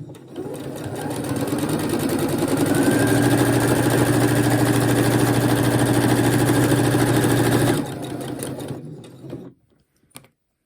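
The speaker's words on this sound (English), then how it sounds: "I'm going to back stitch again. Just make sure it's reinforced." A sewing machine runs steadily while back stitching to reinforce a seam on a fabric face mask with a filter pocket, a continuous close, loud motor drone and needle rattle that stops near the end, followed by a few small handling sounds.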